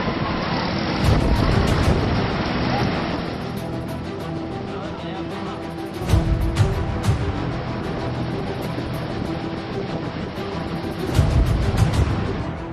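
Floodwater surges across a submerged road in Kutch, Gujarat, a steady broadband rush of churning water with wind buffeting the microphone, swelling louder around the middle and again near the end.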